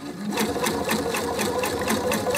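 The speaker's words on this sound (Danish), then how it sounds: "I det her stof kan jeg fint køre med en ligeud søm" A domestic sewing machine runs a straight stitch through fabric, a fast, steady needle chatter that stays close and loud throughout with no pauses.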